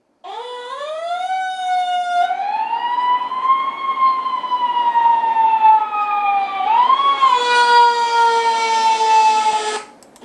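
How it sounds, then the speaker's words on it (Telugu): An AI-generated fire engine sound: a steady horn blast, then a loud wailing siren that rises and falls continuously for about ten seconds, with no voices. "ఫస్ట్ ఒక ఫైర్ ఇంజన్ నుంచి ఒక హార్న్ సౌండ్ వచ్చింది, దాని తర్వాత ఫైర్ ఇంజన్ సైరన్ వచ్చింది."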